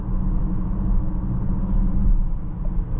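Steady low engine and exhaust drone inside the cabin of a 2024 BMW X6 40i with its iconic sounds feature switched off, a continuous muted rumble with no talk.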